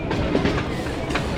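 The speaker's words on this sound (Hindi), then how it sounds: "ट्रेन हमारी लूप लाइन पर आ गई है" A passenger train on the Rawalpindi to Havelian line rolls over the tracks while switching onto a loop line, giving a continuous loud rumble with rhythmic clatter heard from on board.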